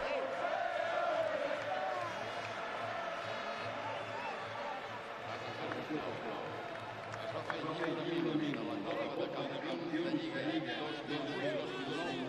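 A stadium crowd at Camp Nou keeps up a continuous dense roar of cheering and chanting during an FC Barcelona celebration, with a broadcast commentator talking over it.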